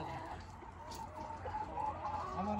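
Village chickens cluck softly in a muddy garden yard by a tent coop, a low, scattered murmur of hen calls over faint background noise.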